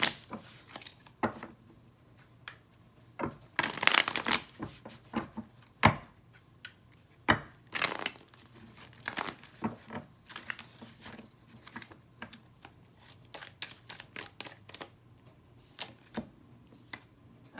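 Tarot cards shuffled by hand, with quiet rapid riffles and soft clicking taps broken by several louder bursts of flutter, close up and with no talking.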